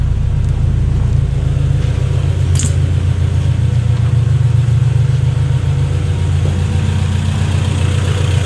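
A Honda B20 VTEC engine in an Acura Integra idles steadily with a smooth, even low rumble throughout, no voices, and one faint brief tick partway through.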